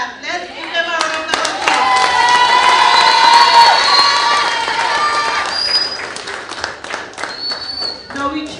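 Loud audience clapping and cheering with children shouting at a community heritage theatre production about climate change, swelling for several seconds and then thinning to scattered claps.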